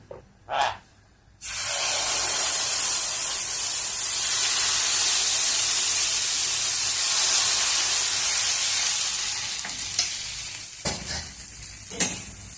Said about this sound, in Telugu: ఇప్పుడు పిండి కలుపుకున్నాం కదా, ఈ పిండి వేసేద్దాం.